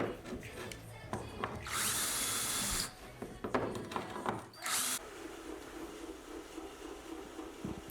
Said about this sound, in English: once the holes are drilled, countersink to get rid of the sharp edges